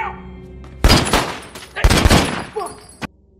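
Gunshots in a film scene, with a bullet grazing a forehead: two loud, close bursts of gunfire with a ringing decay, followed by a sharp final crack, a voice faintly underneath.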